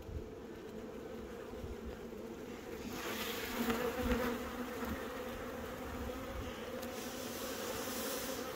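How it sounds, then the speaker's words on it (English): Bees buzz continuously in a dense swarm around a hive, a steady, close drone that swells briefly in the middle. "that is just absolutely jam-packed full of bees"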